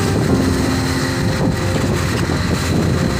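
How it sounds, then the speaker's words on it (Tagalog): Strong wind at sea on a loaded boat bound for a reclamation island buffets the microphone in a constant roaring rush, with a faint engine-like drone underneath and no voices. "Lakas ng hangin."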